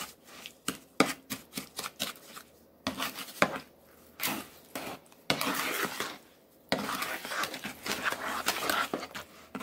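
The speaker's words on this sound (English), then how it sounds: "We're going to give this a stir." A spatula works through thick pumpkin pie filling in a bowl, making irregular scraping, knocking and slapping strokes in quick clusters, close and moderately loud with brief pauses between, and no one talking.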